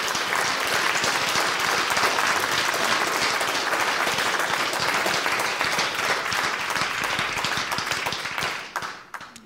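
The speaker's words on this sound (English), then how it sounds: "If we could just give them another round of applause," Concert audience giving a sustained round of applause, loud dense clapping with sharp individual claps standing out, fading out in the final second.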